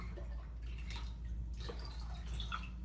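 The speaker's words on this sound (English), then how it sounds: "So we're going to refill the bottle." Water runs steadily into a bottle being refilled during a baking soda decomposition lab, a soft continuous trickle and splash close by with no talking.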